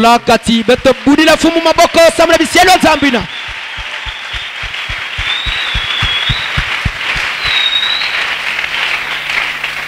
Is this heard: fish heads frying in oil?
no